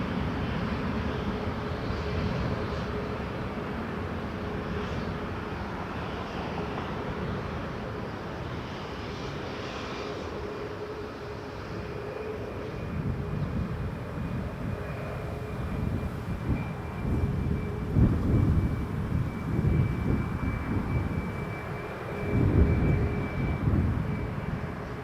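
A plane lifting off runway 23 at Toronto Pearson airport, a steady far-off engine roar that builds and rumbles louder toward the end, alone with no voices.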